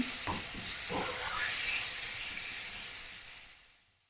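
Strips of US beef strip loin sizzle fast in a hot pan, a steady close hiss of frying with a few stirring scrapes early on, fading toward the end.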